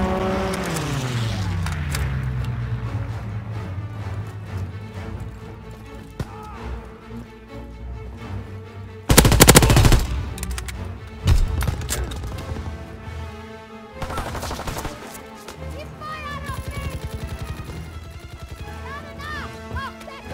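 A fighter plane's strafing run in the Call of Duty WWII game hits in a loud, dense burst of gunfire midway, preceded by an engine roar and followed by scattered impacts and battle noise.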